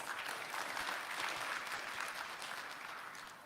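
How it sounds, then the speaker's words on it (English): An audience claps steadily through a morning opening ceremony for a cultural festival, producing a dense, even wash of applause that holds at a constant level and fades only slightly toward the end. "May I have a big round of applause for all of us."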